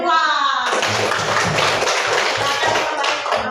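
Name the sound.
classroom children clapping for group 2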